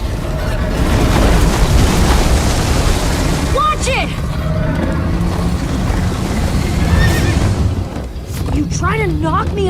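Horse whinnies from a horse in Minecraft Story Mode ring out twice over rushing waves and background talk, the second neigh longer and wavering near the end.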